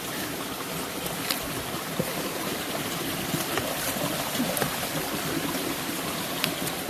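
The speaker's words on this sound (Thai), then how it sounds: "อันนี้นะคะน้ำอันนี้ทางน้ำไหลนะคะ มาจากทางมาจากน้ำตก ข้างบนนะคะ" Muddy, rain-swollen stream water rushes down from a small waterfall in a forest in Kanchanaburi, a steady broadband rush that stays constant with nothing else prominent.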